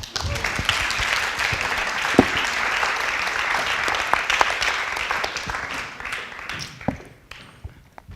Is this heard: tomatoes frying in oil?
no